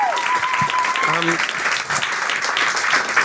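Audience applause at a stand-up comedy show at the Point Virgule in Paris: dense, steady clapping throughout, loud and close, with a brief voice and a whistle-like tone near the start.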